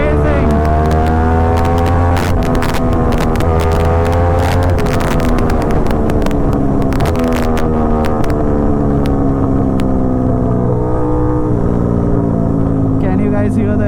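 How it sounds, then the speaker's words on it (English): An Aprilia RS 660 with an SC Project full titanium exhaust revs hard and climbs through gears, loud and close, with sharp pops and crackles cutting in at each shift. "And while shifting gears, it pops."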